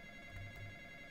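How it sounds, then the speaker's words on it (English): A phone rings faintly in a Roblox Five Nights at Freddy's style horror game, a thin steady electronic tone with a low buzzing hum beneath it, quiet and distant. "Why is the phone still ringing and I hear him?"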